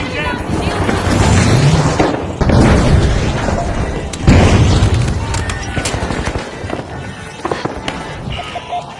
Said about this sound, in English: Flashbang.